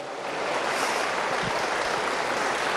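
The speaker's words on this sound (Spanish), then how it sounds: "Denle un aplauso a este chamaco, por favor" A congregation applauds a boy receiving an academic excellence award, a continuous rushing wash of clapping hands, fairly loud and even, with no clear speech.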